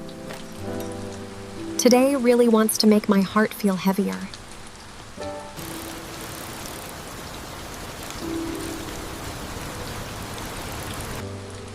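Steady rain falls on surfaces as a constant, fairly loud hiss, with someone speaking briefly near the start.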